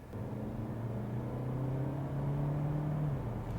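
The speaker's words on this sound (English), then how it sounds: "That just sounds like a normal petrol engine" A small SUV's petrol engine runs at a steady, smooth idle, its low drone holding even with a slight rise in pitch midway.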